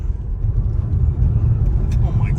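A Tesla car accelerates at full throttle, a steady low road rumble and tire roar inside the cabin with faint electric motor whine, no speech over it.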